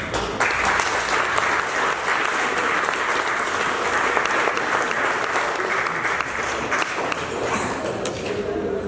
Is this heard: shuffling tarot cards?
no